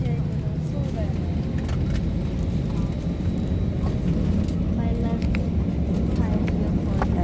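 Inside an airplane cabin at takeoff, engines build into a steady roaring drone, loud and continuous, with people talking over it.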